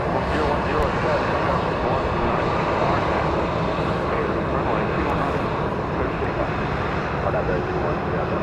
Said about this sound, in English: Southwest Flight 2150 to Omaha, Nebraska. There it is. 737-800.